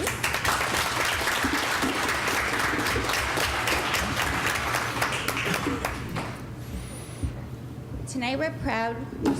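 At a school board meeting, an audience applauds teachers and their students with a loud, sustained wash of clapping that thins out after several seconds, giving way to voices and scattered sounds.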